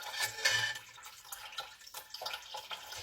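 Broth poured back from a gravy separator into a pot, a short splashing pour followed by smaller trickles and drips, close by.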